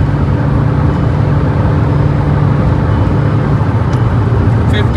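A Kia Sonet HTX 1.5 diesel with manual gearbox is driven flat out at speed, with a loud, steady engine drone and heavy road and wind roar filling the cabin continuously.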